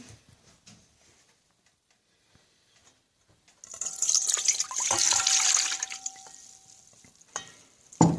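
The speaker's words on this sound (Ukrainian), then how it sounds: "Для цього нам потрібно влити пів літра сироватки" Half a litre of whey poured into a bowl for thin pancake batter: a steady, close liquid rush lasting a few seconds after near silence, ending with a couple of soft knocks.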